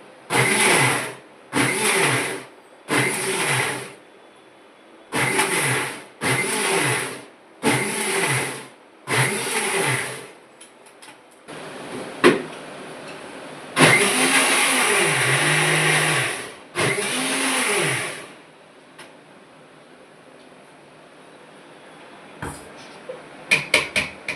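A mixie grinder blending tomato chutney runs in repeated short pulses, about nine bursts of roughly a second each, then two longer whirring runs and some faint clatter.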